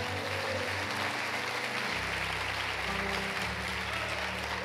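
Sustained applause from a large church congregation during a sermon, a steady dense wash of clapping over a low held musical drone.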